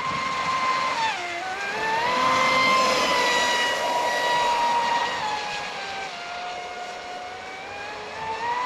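A Traxxas Spartan RC boat runs flat out with a smaller 4514 Oxidean prop at high RPM, its motor whining steadily at a distance with pitch sweeping up and down over water noise.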